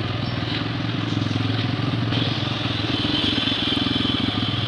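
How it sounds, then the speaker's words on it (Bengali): A motorbike rides along a road with its steady engine drone running continuously and fairly close, without talk. "দেখো আমি বাইক নিয়ে যাচ্ছি, কারণ হেঁটে অনেকটা সময় লেগে যেত।"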